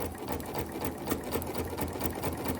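Sewing machine stitching fabric for a pillow, a fast steady mechanical chatter with regular rhythmic pulses running continuously at moderate volume, with no talking.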